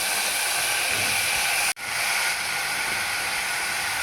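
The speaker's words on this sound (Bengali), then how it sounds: "তেলটা অনেকটা ছিটকাচ্ছে" Hot oil spattering while potatoes fry in a pressure cooker, a continuous loud sizzling hiss broken by one brief cutout midway.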